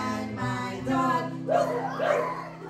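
Young voices imitate a dog, giving a couple of barking "woofs" over a sung melody with instrumental backing.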